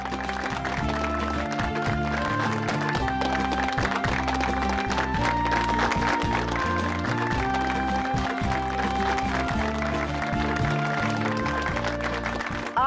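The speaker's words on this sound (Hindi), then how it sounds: "तो जोरदार तालियों से स्वागत कीजिए बड़ी अम्मा का।" Steady, sustained clapping from a studio audience fills a Hindi TV serial stage event as a guest is welcomed, even and unbroken for the whole stretch, with music underneath.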